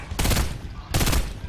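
Fortnite gunfire sounds in two loud, close bursts of rapid shots, each lasting about half a second, with a short gap between them.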